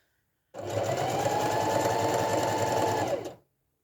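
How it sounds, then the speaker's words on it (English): A sewing machine stitches a market bag in one continuous, close run of about three seconds, its steady rapid whirring hum starting abruptly and winding down at the end. "Just need to work out how to get my needle in the down position when I stop sewing."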